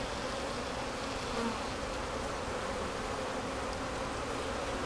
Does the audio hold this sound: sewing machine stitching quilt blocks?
no